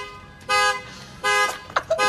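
Loud electronic honks sound in short bursts, two long blasts followed by quicker chirps, like a car alarm going off nearby.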